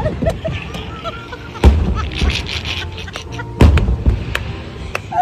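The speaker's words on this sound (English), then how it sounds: "Fireworks on the riverside." Fireworks bursting outdoors by a riverside at Disney World on New Year's, a few deep booms and sharp pops at irregular intervals, with crowd murmur and chatter underneath.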